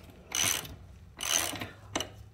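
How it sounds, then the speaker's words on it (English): A wrench works loose the chain tension nuts on a Husqvarna chainsaw, making three ratcheting, clicking bursts: two longer turns and a short final click, close up with no talk. "we're just gonna go ahead and loosen both sides"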